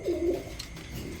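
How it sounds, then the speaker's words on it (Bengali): An Indian Lotan pigeon coos in two close, low, throaty pulses near the start, then falls quiet against a soft background hum. "কি কবুতর গো এত সুন্দর ডাকে?"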